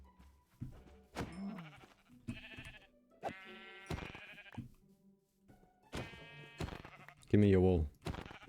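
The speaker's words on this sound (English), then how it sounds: "And there's a lot of sheep here." Sheep bleat repeatedly in a video game, several loud, wavering calls spread through the stretch, with someone talking briefly between them.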